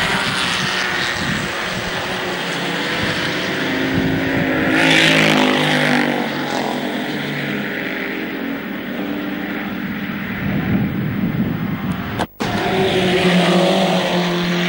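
Racing cars at Mallory Park in 1974 roar loudly along the circuit with wheel spin, a dense continuous engine howl that swells mid-way and cuts out for an instant before resuming.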